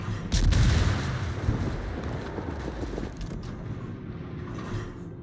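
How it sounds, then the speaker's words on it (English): Naval guns fire in the World of Warships game during a fight against a submarine and the cruiser Wooster. A loud close boom near the start is followed by a rumbling tail and a few quieter distant shots. "Yeah, put a couple more shots onto that sub"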